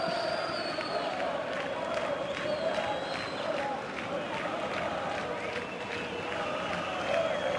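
Stadium crowd at a Girona versus Barcelona football match breaks into steady applause and cheering, a dense continuous roar of many spectators with a commentator's voice running over it.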